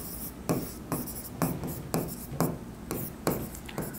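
Pen writing by hand on paper, close and quiet, in rhythmic bursts of scratchy strokes spaced roughly half a second apart, with no talking.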